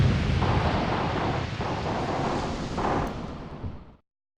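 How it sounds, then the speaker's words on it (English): Mortar shells bursting in the wartime tactics game Graviteam Tactics, a sustained heavy rumble of explosions with rolling low booms and broad rushing noise that cuts off abruptly. "it's the frickin' mortars. These bad boys are shooting the crap out of me"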